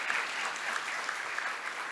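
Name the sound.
audience applause after a panel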